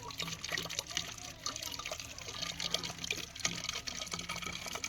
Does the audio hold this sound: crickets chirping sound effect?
no